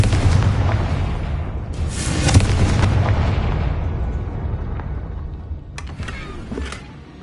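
The Confringo explosive spell from Hogwarts Legacy on PS5 blasts several times: loud booming explosions with rumbling tails, one hitting hard early, then sharper cracks later as the rumble slowly dies away.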